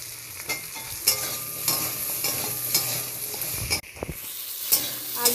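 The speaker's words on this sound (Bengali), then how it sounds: "আলুটাও ভেজে নেব" Potatoes fry in a kadai after onions, a loud steady sizzle broken by repeated scraping strokes of a spatula and a brief dip and thump partway through, close and free of voices.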